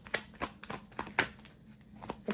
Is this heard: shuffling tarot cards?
yes